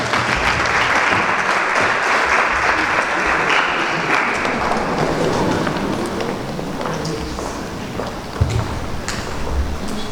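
Graduation ceremony audience applauding and cheering, a dense, sustained wash of clapping that stays loud throughout, with a brief sharper clap or knock near the end.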